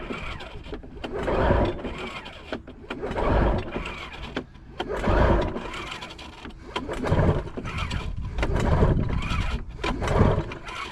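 A triple-cylinder Ski-Doo snowmobile engine, previously locked up, cranks over and over without catching, producing rhythmic rising and falling starter whirs in several long bursts, close and steady, with no speech.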